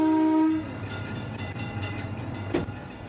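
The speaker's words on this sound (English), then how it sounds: "I see the look on the kids' faces as the train whistle blows or the compressor starts." A museum steam train in motion in Wisconsin, its whistle sounding a loud, steady tone that cuts off, followed by the rumble and clatter of the moving cars and a sharp clank.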